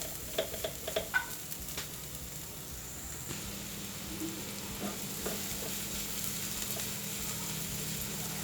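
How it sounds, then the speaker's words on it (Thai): Bacon stir-fries with sliced chili, garlic and salt in a hot pan, a continuous close sizzle with a few sharp spatula scrapes early on. "ผัดให้หอมๆเลยนะครับ"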